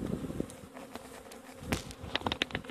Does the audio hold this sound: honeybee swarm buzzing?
yes